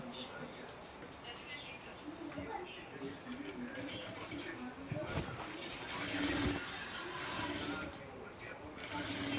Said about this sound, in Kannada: ನೋಡಿ ಈ ರೀತಿ ಸ್ಟಿಚ್ ಮಾಡ್ಕೋಬೇಕು